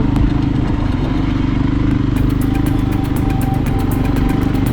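A Loncin LX 300 motorcycle engine runs steadily at low revs, loud and close with a constant throbbing drone and some mechanical clatter, and no voices.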